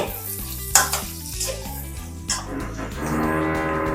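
Beef fry with curry leaves and coriander is stirred in a pan, a loud sizzle with spoon scrapes and clatters against the metal, building to a denser hiss toward the end over a repeating low background tone.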